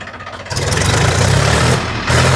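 A tractor engine idles close by with a loud, steady low rumble throughout the short stretch, swelling slightly in intensity partway through.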